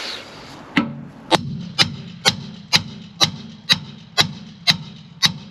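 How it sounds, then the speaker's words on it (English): Hammer blows on a Land Rover Freelander 2 rear wheel hub knuckle during a bearing replacement, about ten sharp metallic strikes at a steady rhythm, each ringing briefly, close and loud with no talk. "just hear the difference in the noise there when you were hammering"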